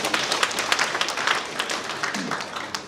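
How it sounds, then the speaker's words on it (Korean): Audience applause at a public talk given by the Naju city mayor: dense, steady clapping from a crowd that fills the whole stretch at an even level, with no voices rising above it. "박수 한번 주시죠."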